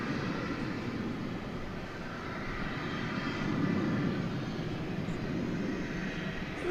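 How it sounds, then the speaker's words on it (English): An Airbus A320 airliner on the runway at DFW airport at night, its jet engines producing a steady, broad rumble at moderate distance that swells slightly midway through, with no voices. "So we welcome Hazel to Runway DFW on this Airbus A320."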